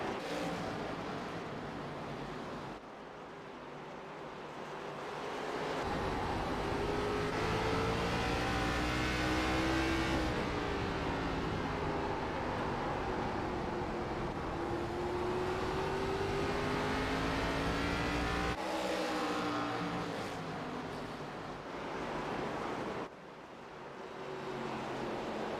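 ARCA Series race cars roar around Myrtle Beach Speedway, engines building into a sustained loud drone as the pack passes, pitch sweeping with shifts, then fading and swelling again over a long stretch.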